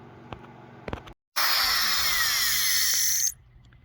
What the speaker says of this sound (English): I'll use my Dremel with that sanding barrel to just address the